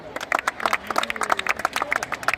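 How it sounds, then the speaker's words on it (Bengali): A small crowd claps by hand at a school cricket match, the quarter-final between class eight and class nine, giving brisk, uneven applause with sharp, close claps and a faint voice underneath. "করতালি করতালি"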